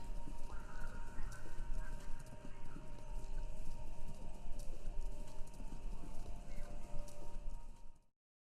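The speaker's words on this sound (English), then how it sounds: "Bunch of horses." A bunch of horses clip-clop in the video game Kentucky Route Zero, a dense, steady clatter of hooves that runs unbroken and loud before cutting off abruptly near the end.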